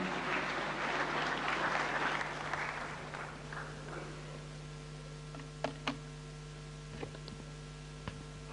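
Applause at a national conclave in Vigyan Bhavan, welcoming Union Minister Anurag Singh Thakur to the stage: a broad burst of clapping from a large audience in a hall, strongest in the first few seconds, then thinning into scattered claps.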